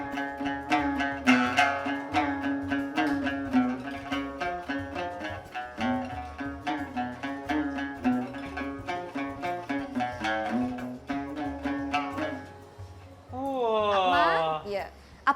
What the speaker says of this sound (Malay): Yang ada di sini adalah Zhongruan.